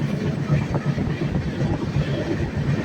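The Deccan Express runs fast, a steady close rumble of wheels and carriage noise with faint rhythmic clatter throughout.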